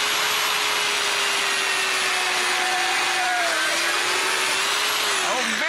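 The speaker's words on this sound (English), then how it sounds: "Real easy to do with the dual saw." A DualTools CS450 dual saw cuts through wooden trim indoors, a loud, steady high-pitched whine with a sustained motor tone that holds for several seconds, then drops in pitch as the blades wind down at the end.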